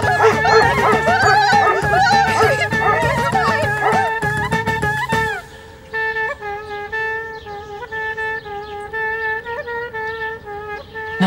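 A dog barks in rapid, energetic bursts, then shifts to a series of drawn-out whines and yelps, close and fairly loud.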